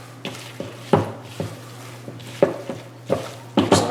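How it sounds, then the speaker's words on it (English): Blackening seasoning being stirred into pastalaya in a pot, heard as a series of scraping utensil strokes and knocks against the pot over a low, steady background hum. "we'll stir that around"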